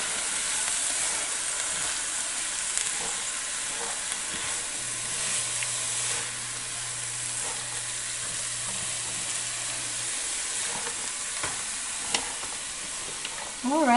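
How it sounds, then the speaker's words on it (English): Vegetables for a Mauritian zasar legumes fry in a pan and are stirred often. A continuous bright sizzle carries occasional scraping and stirring noises, close and fairly loud, with no talking. "Of course you want to mix it quite a bit so that again you're not burning it at the bottom there."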